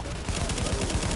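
Gunfire in The Division video game, a rapid string of sharp shots in steady rhythmic bursts over a constant noisy background, fairly quiet overall.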